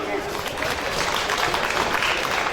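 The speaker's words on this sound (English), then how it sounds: "Big round of applause for the kids." Applause from a crowd at a Gisborne vs Sandhurst sports medal presentation for children, a steady patter of clapping lasting a few seconds at moderate distance.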